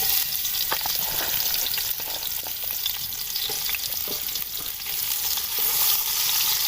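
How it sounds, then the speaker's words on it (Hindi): Large onion frying in hot ghee in a kadai gives a steady, close sizzle throughout, with scattered small pops and crackles and no talking. "घी हमारा गर्म हो चुका है। तो अब इसके अंदर डाल देते हैं 1 बड़े साइज का प्याज।"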